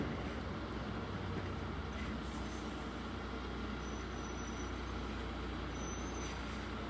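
An LNER passenger train rumbles past close by at Grove Road level crossing, a loud, steady roar of wheels and engine with faint high tones near the end and no voices.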